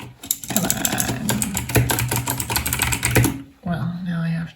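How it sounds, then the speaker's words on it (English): Rapid typing on a computer keyboard, a dense run of light key clicks for about three seconds, then a short pause before a faint tonal sound follows. "now I have to switch my keyboard to Turkish to type my last name"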